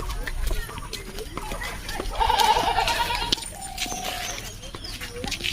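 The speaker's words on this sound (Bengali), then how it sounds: "আর এদিকে দেখো ছাগল" Goats bleating near a village home in the Sundarbans, a couple of wavering calls in the middle of the stretch with birds and faint voices around, close by over soft background noise.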